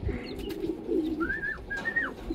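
A young pigeon gives several soft, throaty coos over a couple of seconds, close by, with a few higher chirps and rustles mixed in and no voices.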